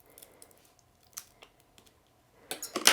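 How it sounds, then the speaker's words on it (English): Tonic non-stick scissors snipping adhesive chalkboard vinyl, a few faint sparse clicks followed by a louder cluster of quick snips at the end. "this is where I like my tonic non-stick scissors, because it's not going to stick to any of the sticky"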